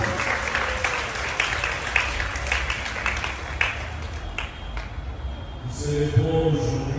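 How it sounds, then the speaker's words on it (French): A congregation applauds at a school mass at Collège Sainte Famille de N'djili, dense steady clapping filling the space for several seconds before fading as a few voices rise. "Est-ce qu'on peut acclamer tout le monde?"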